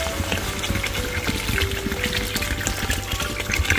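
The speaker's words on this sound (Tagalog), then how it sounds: "Lalagyan na natin ng tubig to at pakukuluin natin" Tap water running and pouring into a cooking pot for boiling macaroni noodles, a steady close gush and trickle that carries on without a break for several seconds.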